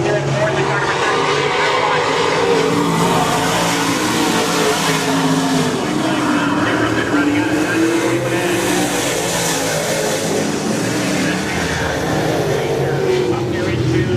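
Race cars roaring around the oval at Crystal Motor Speedway in Michigan, a loud sustained engine drone rising and falling as the pack passes, with an announcer talking over it throughout.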